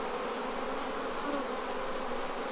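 Honey bees in a strong hive being supered during swarm and split work: a dense, continuous buzzing hum of many bees surrounds the listener at close range, steady throughout with no talking.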